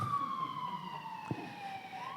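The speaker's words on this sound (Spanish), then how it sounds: "la ambulancia pasó." An ambulance siren passes by, a single falling wail that is moderately distant and steady, with faint traffic rumble underneath.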